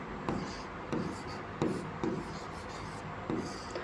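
Pen writing on paper during a maths lesson, soft close scratching strokes in short bursts, about six quick marks spread over a few seconds, with faint room noise.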